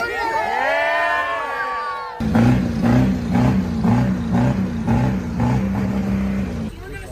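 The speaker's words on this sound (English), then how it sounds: "We're gonna see the comparison on how the engines sound, how they rev." A Ford F-250 pickup truck running on fuel made from plastic waste in Chicago revs loudly and close in a series of rhythmic pulses, with voices in the background.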